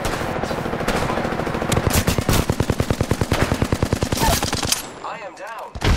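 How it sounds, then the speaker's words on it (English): Rapid automatic gunfire in the battle royale game Apex Legends rings out in a loud sustained burst of evenly spaced shots, then breaks off into quieter game sounds. "I am taking fire."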